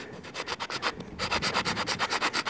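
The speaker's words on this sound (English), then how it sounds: "for quick cleanup, you use the rasp" Rasp filing wood while fitting an AK rifle stock, a close, rhythmic series of rough scraping strokes, about a dozen in quick succession with a brief pause near the one-second mark.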